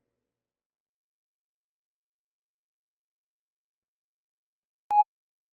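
A single short electronic voicemail beep sounds after a long stretch of silence, clear and brief, like a voicemail prompt tone.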